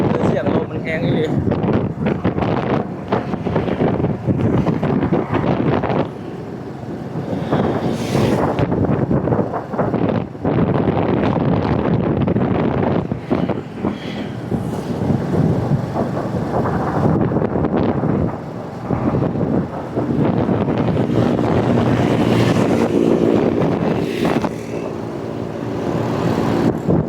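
Wind buffets the microphone on a roadside outing in Vientiane, a heavy, continuous rumbling roar with passing vehicle noise, and a person talks over it at times.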